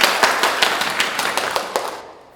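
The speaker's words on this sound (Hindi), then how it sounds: "तालियां" About eight separate sharp claps ring out at a youth talent show, evenly spaced and fairly close, then fade out near the end.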